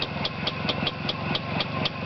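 A motor engine runs close by with a rough, uneven idle, a steady rumble marked by regular ticking knocks about four times per second.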